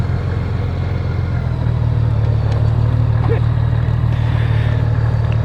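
A motorcycle cruises at night through city streets, its engine a loud, steady low drone with wind rush throughout, and a rider speaking briefly over it.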